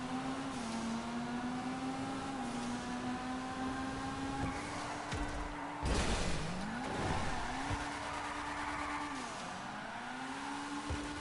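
A drift car in GTA V holds a steady revving engine drone while its tires squeal and skid through turns in a puddle, the pitch dipping and climbing with each slide.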